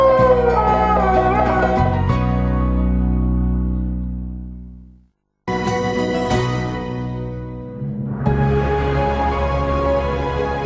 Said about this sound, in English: a moment of magic at dawn, and a duet with a dingo